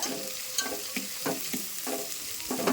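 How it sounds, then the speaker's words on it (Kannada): Onions and green chilies frying in hot oil in a home kitchen pan, a steady close sizzle broken by regular stirring scrapes about every half second, with no voices. "ಉಳ್ಳಾಗಡ್ಡಿ ಮೆಣಸಿನ್ಕಾಯಿ ಎಲ್ಲ ಎಣ್ಣೆ ಒಳಗೆ ಫ್ರೈ ಅಲ್ರಿ"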